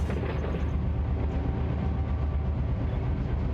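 An intermodal freight train rolls past in the Run8 train simulator game, a steady, loud rumble of wheels and cars with a broad roaring wash that holds evenly throughout.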